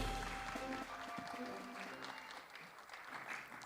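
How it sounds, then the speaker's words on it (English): Audience at an international housing and urban finance forum applauding as a speaker walks on stage, sustained warm clapping across the hall, with some voices mixed in. "Please welcome Mr. Lee with a very warm round of applause."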